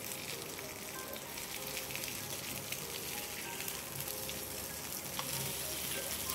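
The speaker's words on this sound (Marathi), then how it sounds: "दुसऱ्या बाजूने पण ती छान भाजली जाते." Okra (bhendi) steadily sizzling and frying in a pan after being turned over, a continuous soft crackle heard alone at low volume.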